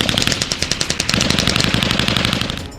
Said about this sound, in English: To orient the cadets with different heavy weapons, they are taken to an exercise for a couple of days, namely field fire